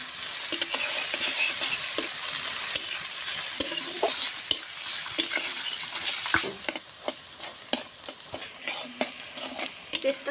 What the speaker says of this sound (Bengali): তেলের মধ্যে দিয়ে দেবো রসুন কুচি।